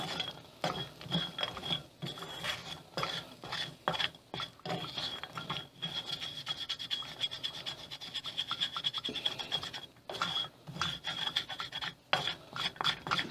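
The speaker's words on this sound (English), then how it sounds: "Scrape all that brown off the pan. That's all your seasonings and your liquid smoke." A spatula scrapes browned seasoning and liquid smoke residue off a pan while making jerky. Dense, continuous rasping and rubbing strokes run close and fairly faint throughout, with no voices.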